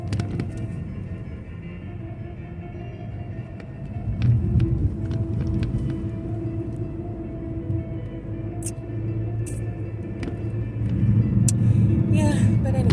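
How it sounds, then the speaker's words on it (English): A car moves slowly with a steady low engine rumble and road noise, swelling a little at times, with a few faint clicks and rattles inside the cabin. "What is going on with you, car?"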